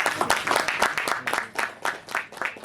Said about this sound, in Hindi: भरत भाई को के लिए और भाभी सुशीला भाभी के लिए जोरदार तालियां